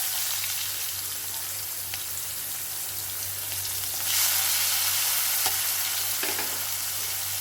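Garlic cloves and a large chopped onion sautéing in a pan for cluster beans thokku, a steady close sizzle with occasional stirring scrapes and a brief louder burst of frying partway through, no talking.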